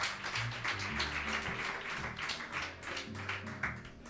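Podcast studio audience applauding for Alessandro Pieravanti, a close, moderately loud patter of hand claps with uneven taps, plus a low voice humming underneath.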